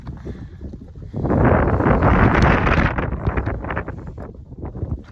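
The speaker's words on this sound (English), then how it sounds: "once in a while you get a gust of wind, and that's about it." A gust of wind roars across the microphone on Halo Ridge by the Mount of the Holy Cross in Colorado, swelling suddenly to a loud buffeting rush and then easing into lighter gusty rumble.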